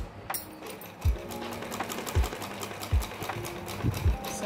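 A sewing machine stitches a sleeve along its buckram edge, whirring in a steady run of rapid needle ticks broken by a few low thumps, close and fairly quiet, with no talk.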